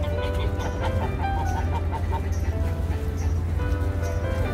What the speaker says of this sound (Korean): 여기 호수에 자체적으로 자연적으로 살고 있는 거위들이 아닌가 하는 생각이 듭니다